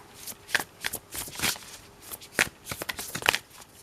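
Crisp riffling and slapping of tarot cards being shuffled in several quick bursts, close and fairly quiet, with no talking.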